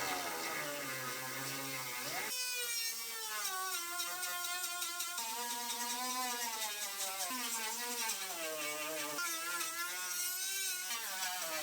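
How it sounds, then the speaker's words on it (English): Die grinder grinding out spot welds on a Ram Promaster City panel, a continuous high whine that shifts pitch as it bites into the metal, loud and close without a pause. "start grinding all our welds out"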